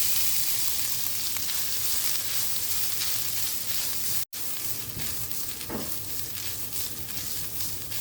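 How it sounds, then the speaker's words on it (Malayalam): Grated coconut fries in ghee for a Kerala sweet snack of sweetened flattened rice, a dense bright sizzle heard close up with soft scraping stirs and one brief break. "നെക്സ്റ്റ് നമുക്ക് ഈ നെയ്യിലേക്ക് തന്നെ തേങ്ങ ഒന്ന് വറുത്തെടുക്കാം"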